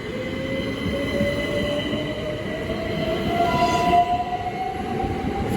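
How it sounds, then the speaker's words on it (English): A Great Western Railway train on the 12:24 Newbury to London Paddington service pulls out of Reading station, wheels squealing and engine note rising steadily, loud and close with rumbling rail noise throughout. "Now departing is the 12:24 Great Western Railway service from Newbury to London Paddington."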